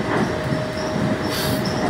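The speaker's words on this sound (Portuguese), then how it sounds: "que é o novo trem de São Paulo" A São Paulo monorail train runs steadily with continuous rolling rumble and a thin high squeal, heard close and alone without talk for two seconds.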